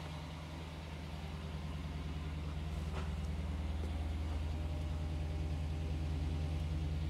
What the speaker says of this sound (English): Now let's hear the idle from outside the car.